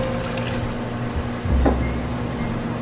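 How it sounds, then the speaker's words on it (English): Two cups of water pour into a cooking pot with sausage, garlic and diced tomatoes, a brief gurgling splash over a low kitchen hum, loud and close. "2 cups of water"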